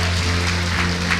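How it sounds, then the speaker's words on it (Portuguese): A church congregation claps for Jesus at the close of a Sunday service, a steady, dense wash of applause lasting throughout, with a sustained musical tone underneath. "Mais uma vez, vamos aplaudir a Jesus."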